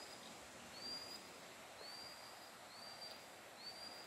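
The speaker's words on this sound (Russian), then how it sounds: "Какая-то птица кричит." A bird calls beside the Kotorosl River near a pine forest, giving four brief, thin high whistles about a second apart, faint and distant over steady outdoor background hiss.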